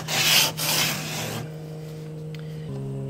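Coarse 36-grit blue sandpaper rasps by hand across a cracked Catalina 25 sailboat forehatch, a loud gritty scrubbing at first that settles into a quieter steady rub over a constant low hum.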